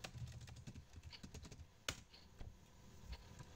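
Fingers typing a Linux install command on a computer keyboard, a quick irregular patter of close, soft key clicks with one sharper keystroke near the middle.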